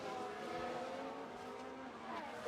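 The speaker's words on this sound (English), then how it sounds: "And goes to the inside to defend from Fernando Alonso." Formula 1 cars race in the F1 Manager video game, their engines forming a steady, dense, high-revving drone of layered tones, heard faintly and continuously without speech.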